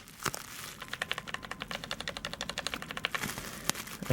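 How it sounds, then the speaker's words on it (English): Bubble wrap being popped by hand, a rapid irregular run of sharp crackling snaps and crinkles packed close together, fairly near and alone with no talk. "Got some bubble wrap here. Gotta love the bubble wrap. Gotta do some popping for the boys."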